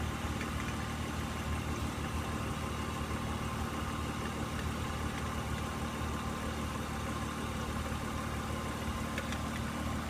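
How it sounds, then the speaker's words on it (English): A car engine idles during a DIY oil change, a constant, even drone that holds unchanged throughout with no talking. "While that engine cycling"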